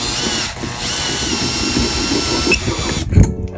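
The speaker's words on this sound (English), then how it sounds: "So that goes in the drill." A power drill spins a metal rod for a homemade rotisserie spit, running steadily as a loud, close whir that stops abruptly near the end with a clunk.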